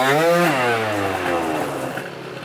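A scooter engine is started and left warming up, its harmonic buzz rising sharply over the first half second before settling into a steady, loud idle, heard close up and alone.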